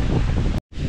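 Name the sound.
wind blowing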